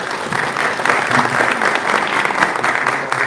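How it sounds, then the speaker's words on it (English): An audience at a political debate for superintendent of public instruction candidates claps loudly, dense crackling applause from a sizable crowd filling the room and sustained throughout. "You need the applause afterwards"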